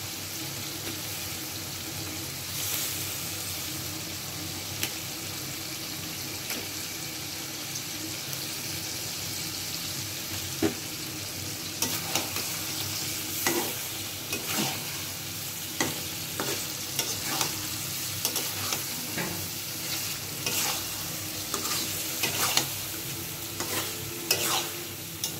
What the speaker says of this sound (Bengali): মাছগুলো আমার কষানো হয়ে গেছে